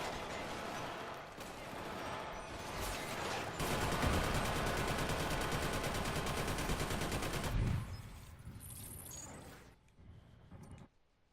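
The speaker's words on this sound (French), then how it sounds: "Ah pardon, on me tire dessus." Sustained automatic gunfire in the first-person shooter Killzone Shadow Fall, a dense rapid rattle of shots with mechanical clatter that continues for several seconds and then trails off into quieter game sounds.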